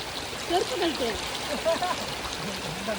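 A stream of water being blocked in Kodaikanal gives a steady rushing, trickling wash, with voices talking briefly over it.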